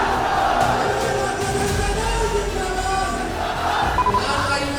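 A large crowd at an RJD political rally in Bihar roars and shouts continuously, a dense wash of many voices with occasional louder cries rising out of it.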